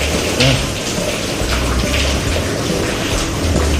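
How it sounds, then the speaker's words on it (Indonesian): Steady rain patters on a home's outdoor patio canopy, a dense, continuous hiss of drops that stays loud and even throughout, with faint low rumbles beneath and no talking. "Wow, hujan."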